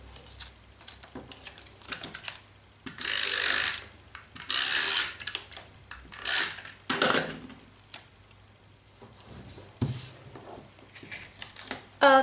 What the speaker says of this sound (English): I'm going to cut off these edges with my scissors